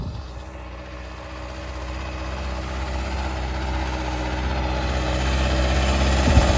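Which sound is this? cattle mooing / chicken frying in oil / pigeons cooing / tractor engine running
tractor engine running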